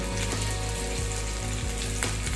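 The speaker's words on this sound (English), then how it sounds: "So the oil is hot. Let's add sliced ginger and garlic to it." Sliced ginger and garlic sizzle steadily in hot oil for a mutton Kolhapuri base, a loud, continuous close crackle with a few sharper pops and a low kitchen hum underneath.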